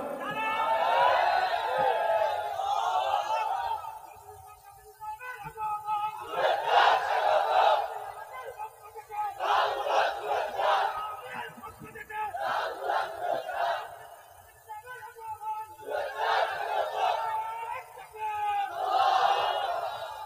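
A crowd at an Islamic sermon gathering chants takbir in repeated loud call-and-response bursts, roughly every two to three seconds, with many voices shouting together in a reverberant space.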